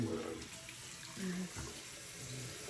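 Burning-hot water runs from a bathroom tap into a sink as a steady, quiet wash, with a faint voice in the background.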